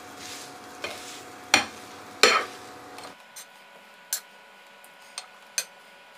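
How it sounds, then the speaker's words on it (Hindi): A masher works through spiced samosa filling with crushed red chilli in a pan, giving a handful of sharp, separate clacks and soft squishes at uneven intervals against a quiet background. "मैशर की मदद से इसे मैश कर लेंगे।"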